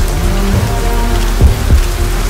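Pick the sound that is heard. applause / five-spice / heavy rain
heavy rain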